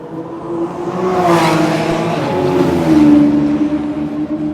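Loud race car engines roar past close by, a passing Lamborghini's pitch sweeping down, then another revving through, continuous motor noise throughout.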